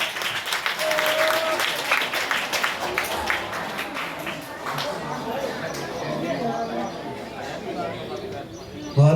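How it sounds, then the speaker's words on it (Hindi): An audience at a village high school prize ceremony in Chatholi, Vidisha district, claps to welcome the winners, with lively applause strongest at first and mixed with murmuring voices and chatter as it fades. "जोरदार तालियों से इनका स्वागत।"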